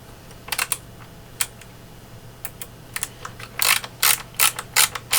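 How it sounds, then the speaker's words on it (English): A ratchet screwdriver tightens a part on a NONA spinning wheel during assembly, giving close, sharp ratcheting clicks in irregular bursts, sparse at first and then quicker and denser toward the end, with no talk. "Using a ratchet screwdriver"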